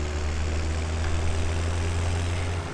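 A tractor engine in the Farming Simulator 17 game idles with a steady low droning hum and faint propeller-like whir, constant and close, with no voices.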